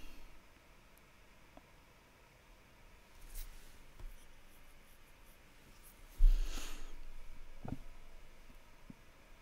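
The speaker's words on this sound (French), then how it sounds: "Donc j'utilise de dureté de graphite, ce qui me permet d'avoir des grilles plus ou moins soutenues pour colorier ce petit papillon." Graphite and colored pencil rub across paper while a small butterfly is colored in, giving soft, close scratching and scribbling strokes in short bursts against a quiet background.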